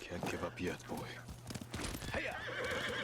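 A horse whinnies in Ghost of Tsushima amid busy game sound, with hoof clip-clops, sharp bursts and someone talking over it.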